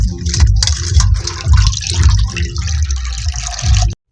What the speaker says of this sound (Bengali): এখন আমি মটরের শাকটা ধুয়ে নেব।